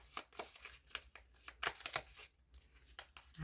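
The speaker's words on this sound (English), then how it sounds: "it's only so much shuffling I can do" Tarot cards are shuffled in quick, soft riffling bursts with papery flutters and brief pauses, close and fairly quiet, with no talking.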